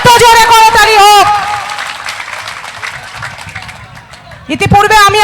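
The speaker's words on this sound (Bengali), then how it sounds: "এত জোরে করতালি হোক।" Loud crowd applause and cheering fill a political rally, a dense sustained burst of clapping that fades and then surges again, with a voice shouting over it at the start and end.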